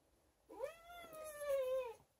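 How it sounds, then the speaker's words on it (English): A chubby, angry cat lets out one long, drawn-out complaining meow lasting about a second and a half, close and clear against a quiet room. "I'm here with my chubby cat, and she gets very angry with me"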